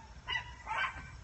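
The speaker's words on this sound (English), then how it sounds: "excuse my dogs there, they're barking at I don't know what." Dogs barking outside a house, two short yappy barks a moment apart, moderately near.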